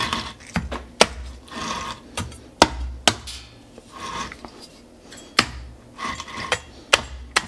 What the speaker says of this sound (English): So basically now you just have to open it up with the cleaver like this.